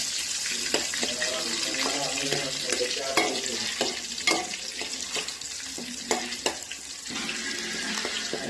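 Onions fry and are stirred in a pan for Kerala-style tuna coconut fish curry, a continuous sizzle broken by repeated close scraping and tapping of the spoon against the pan, with no talking.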